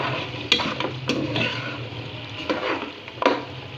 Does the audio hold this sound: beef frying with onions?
yes